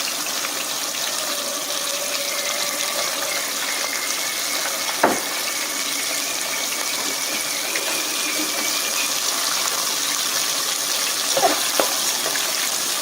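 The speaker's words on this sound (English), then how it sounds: "Deep fry it in 3 runs." Lobster pieces deep frying in hot oil for a Chinese stir-fry lobster dish, giving a steady, dense hiss and bubble with a couple of brief clinks, no voices.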